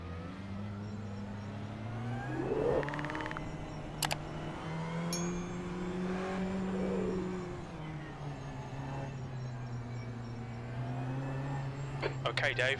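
Ferrari race car in the iRacing sim at Suzuka, its engine note droning steadily and rising and falling in pitch through gear changes, with a few sharp clicks and a voice speaking over the top.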